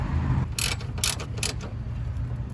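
Ratchet wrench clicking a 10mm nut on the battery hold-down of a Toyota Camry, three short bursts of close ratcheting over a low steady background hum.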